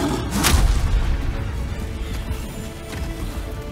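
A booming explosion in the video game Demon's Souls Remake hits early and loud, then leaves a dense rumbling, crackling tail that fades slowly.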